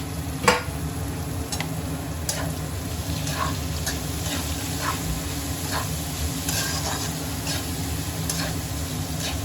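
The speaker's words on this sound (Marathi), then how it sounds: "त्या पण भाज्या अशा तेलामध्ये भाजून घेऊया" Vegetables frying in hot oil for Chinese noodles, a steady close sizzle with scattered ticks and clicks of stirring, continuous without talk.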